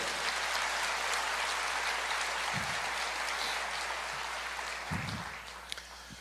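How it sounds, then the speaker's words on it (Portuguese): A church congregation applauds during a sermon, a continuous wash of clapping that stays fairly even and slowly thins toward the end, heard at moderate distance with a low hum underneath. "Pode aplaudir o Senhor aí"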